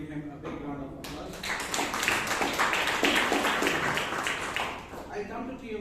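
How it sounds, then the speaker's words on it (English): A meeting audience of a Toastmasters club claps in a sustained round of applause lasting several seconds, dense and fairly close, with brief talk before it starts and as it fades. "Give him a big round of applause"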